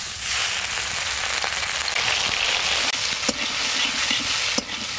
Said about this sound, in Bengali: আমি প্রথমে কালো জিরে তেলেতে দিয়ে দিচ্ছি